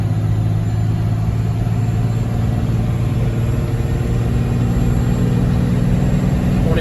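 A Cummins diesel in a Ford F350 pulls a cattle trailer, its engine droning loud and steady with a deep hum and a slight rising strain throughout, heard from inside the cab with no talking.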